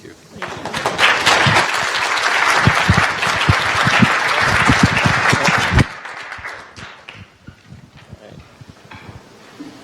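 Audience applause at a bitcoin expo panel: dense, loud clapping from a large crowd that holds steady for about six seconds, then drops sharply and thins to scattered claps.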